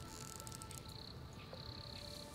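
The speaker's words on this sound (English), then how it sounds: "I don't want to fight with wasps, if that's an option." Insects buzz and drone in the Smalland: Survive the Wilds survival game, with a steady shrill whine over a dense ambient bed, a sustained tone cutting in and out for several seconds.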